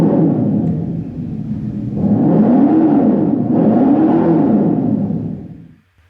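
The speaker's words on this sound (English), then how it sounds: "you can listen to it boot up, if you will, and you can hear the exhaust here" A Dodge Charger Daytona EV plays its Fratzonic synthetic exhaust at close range: a steady low droning rumble swells into two rising and falling revving sweeps, then cuts off abruptly into silence, with no voices.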